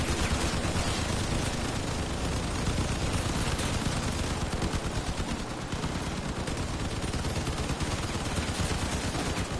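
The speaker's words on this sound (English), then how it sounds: "Oh, someone's shooting me right now." Continuous heavy gunfire in the vehicle combat game Crossout, a dense, loud stream of rapid machine-gun shots and impacts that runs without a break for the whole stretch.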